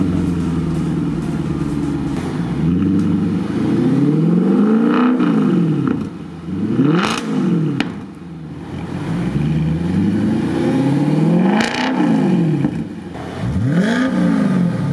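Audi S5 V8 coupe with an Armytrix valved exhaust cold starting: a loud, close engine note that rises and falls in repeated rev sweeps, with a few sharp pops and barks between surges, no talking.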